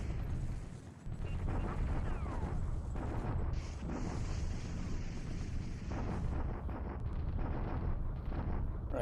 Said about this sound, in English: Bombardment goes first.